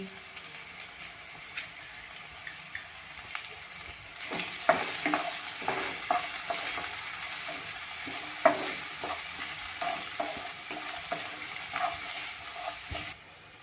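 Carrots and French beans for veg manchow soup sizzle in a hot pan, the frying growing louder partway through, with repeated scraping and clinking strokes as the vegetables are tossed, then ending abruptly.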